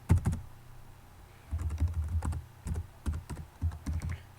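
Keys clatter on a computer keyboard in short quick bursts separated by brief pauses, fairly close and quiet, with no voices.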